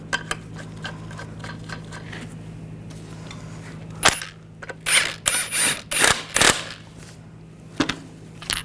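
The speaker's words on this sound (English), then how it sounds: "Get the lug nuts started." Ratchet wrench spinning lug nuts onto a wheel of a 2014-2018 GMC Sierra pickup in a garage: faint mechanical clicks at first, then several loud, short bursts of rapid ratcheting close by, with no talking.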